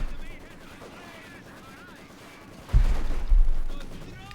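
A mortar strike in the World War II strategy game Company of Heroes 2 lands as a loud, deep explosive boom with rumbling debris, following quieter gunfire and battle ambience.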